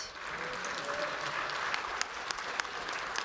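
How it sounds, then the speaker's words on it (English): Opposition lawmakers give a round of applause inside the parliament chamber, a steady wash of clapping at moderate distance with a few sharper claps standing out and faint voices mixed in. "there's the other opposition lawmakers are giving a round of applause"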